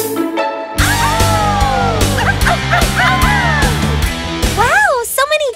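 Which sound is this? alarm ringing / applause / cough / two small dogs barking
two small dogs barking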